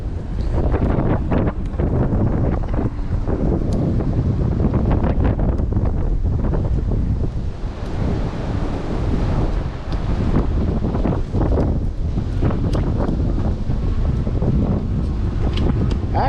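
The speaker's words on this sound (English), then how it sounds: "Really windy today." Heavy wind buffets the microphone throughout a ride on a Cyrusher Kommoda e-bike along trails, a steady loud roar with gusting surges and no speech.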